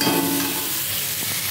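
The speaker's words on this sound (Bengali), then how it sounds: "দিয়ে খুব ভালো করে নেড়ে চেড়ে এটাকে ঢাকা দিয়ে ভালো করে কষতে দেবে" Spice masala sizzles in a pan while being stirred, a close, steady frying hiss with a brief scrape at the start and a few soft knocks near the end.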